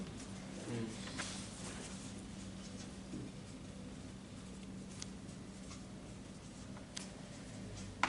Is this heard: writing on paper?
yes